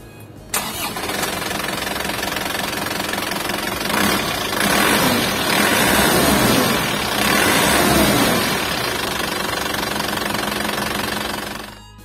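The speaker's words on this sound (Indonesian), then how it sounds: "kita pengen dengar dulu suara diesel gurih yang khas dengan rajanya diesel" An Isuzu Elf minibus campervan's 4JB1 turbo diesel cranks briefly and fires up, then settles into a loud, close, steady clattering diesel idle with a slight rise in revs before cutting off.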